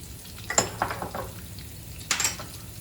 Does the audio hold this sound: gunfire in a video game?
no